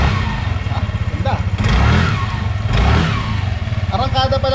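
A Yamaha NMAX scooter engine with CVT upgrades revs up in pulsing bursts, loud and close, its rough putter rising and falling against background chatter.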